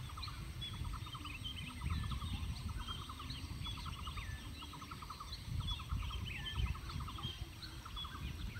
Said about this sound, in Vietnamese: Chim rừng kêu đó các bạn.